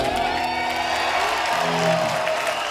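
Studio audience clapping and cheering at a comedy show, a dense, steady wash of applause with a few whoops running unbroken from start to finish.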